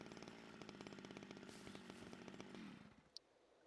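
Chainsaw in the survival game Scum, a steady buzzing engine drone with rapid rhythmic pulsing, running for most of the moment before cutting off abruptly, followed by a single sharp click in the quiet.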